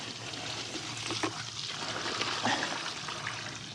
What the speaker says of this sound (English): So we're gonna pour our soap water right on top of it.